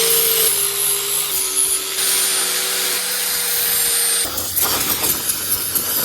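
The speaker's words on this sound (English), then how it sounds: "But first I'm going to clean everything up with an angle grinder." Angle grinder cleaning the windage tray and oil pan of a GM LS engine, a loud steady whine that shifts pitch, then gives way to rougher scraping and grinding contact.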